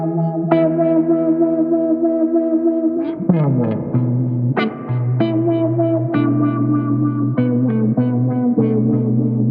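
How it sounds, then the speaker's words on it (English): Electric guitar played through a Moog Grandmother synthesizer, a sine-wave LFO sweeping the filter cutoff under heavy reverb, giving loud sustained chords and plucked notes that swell and wobble in a continuous, echoing wash. "that LFO sound on a guitar is really great"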